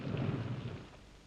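Steady rain with a low, rumbling roll of thunder, fairly faint and fading toward the end, with no voices.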